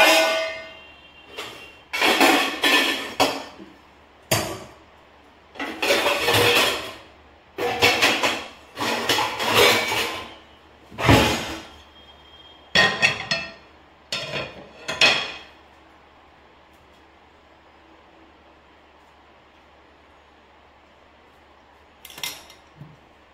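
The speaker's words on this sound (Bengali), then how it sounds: "একটু আলুটা কেটে নিই" Potatoes cut with a knife in a home kitchen before frying, heard as clustered bursts of close knocking and scraping chops separated by pauses, then a long quiet stretch with one last tap.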